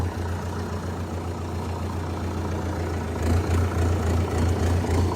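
A Sonalika RX 60 tractor engine idles at home, a steady low diesel thrum with a constant hum that grows slightly louder and rougher toward the end, heard alone without talk.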